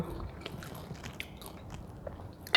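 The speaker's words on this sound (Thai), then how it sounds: "กรอบๆเลยจ้ะ" Crispy fried pork rinds being bitten and chewed close up, with small scattered crunches and a sharper crackle at the end, quiet and without talking.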